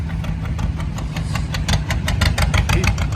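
An antique Allis-Chalmers tractor engine running at a tractor show, a steady low mechanical rumble with a rapid series of sharp pops and bangs growing denser in the second half, fairly close and loud.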